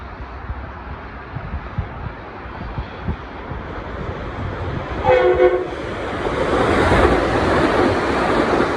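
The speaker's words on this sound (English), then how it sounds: "we've got an express train coming on that track right there" An express train on the New Haven Line approaches and roars through Larchmont station, a rising rushing rumble that grows loud and close, with a brief horn blast partway through.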